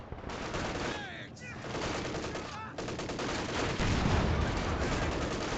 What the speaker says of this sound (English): MG fight from the building and in the road.